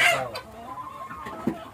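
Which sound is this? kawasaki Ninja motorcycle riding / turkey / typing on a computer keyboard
turkey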